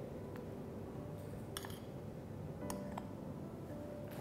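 Bowl and utensils clinking as gram flour goes into a bowl: a few sharp metallic clinks spaced apart over a steady background hum.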